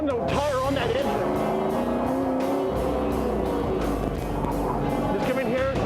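A drift car brakes hard and slides on a track, its engine droning loud and steady with tire noise riding underneath, while someone talks over it the whole time.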